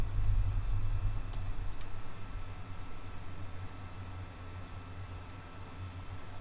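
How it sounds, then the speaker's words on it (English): Keys clatter on a computer keyboard in a quick, steady run of light clicks over a constant low electrical hum, close but faint, with no voice. "So let's just type in digital marketing."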